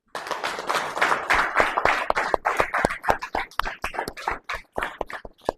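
A church congregation claps for Jesus in distinct, fairly loud bursts that tighten into a quicker, uneven rhythm, with short gaps between rounds of many hands.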